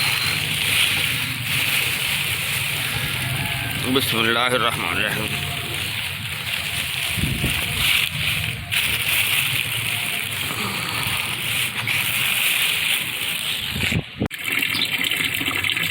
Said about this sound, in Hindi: ये माशाल्लाह इहदे च पानी जिहड़ा ना देखो वो शामिल हो रहा है